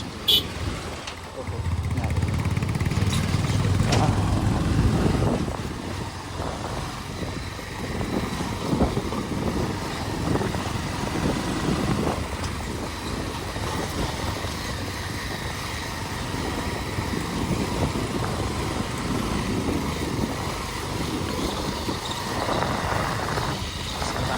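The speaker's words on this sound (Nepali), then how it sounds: "इन्जिनबाट आवाज यस्तो छ" A recently rebuilt motorcycle engine rumbles loudly at first, then keeps running at a lower idle while people talk over it.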